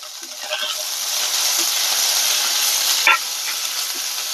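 Curry leaves and two slit green chillies sizzle in hot oil for a mango rasam, a loud, steady, close frying hiss with a brief sharp pop near the end.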